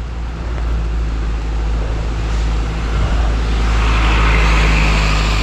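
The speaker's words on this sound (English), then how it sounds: "Big truck." A big truck passes close by on a road, and its loud, steady roar of engine and tyre noise swells toward the end, with no talk.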